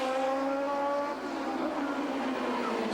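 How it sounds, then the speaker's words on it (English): A Formula Atlantic race car power-slides out of a 180-degree hairpin at a 1970s road race, its engine holding a loud, steady high-revving whine for about three seconds, with no voices heard. "Little power slide by Wilden's car as he comes off that 180 hairpin"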